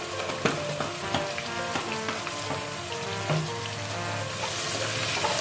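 Onions crackle and sizzle as they deep-fry in hot oil for a chicken roast, a steady close frying hiss with scattered pops and a few soft utensil clinks, no talking.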